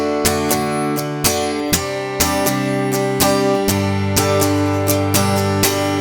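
An acoustic guitar strummed in a Mellencamp-style pattern, moving through different chords with steady rhythmic downstrokes and accented hits, played alone and close.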